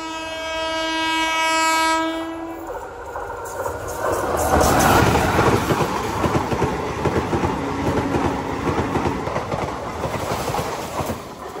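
A Tirupati–Villupuram Express train sounds a horn blast and then rolls on loudly, its wheels rumbling and clattering over the track in a sustained, close roar.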